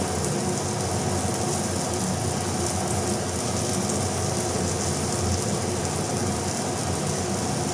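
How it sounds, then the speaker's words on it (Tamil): Brinjal pieces frying in hot oil in a pan, a continuous dense sizzling hiss that stays steady and fairly loud throughout, with no talk. "கத்திரிக்காய் வந்து நல்லா ஃப்ரை ஆகிட்டுருக்குங்க"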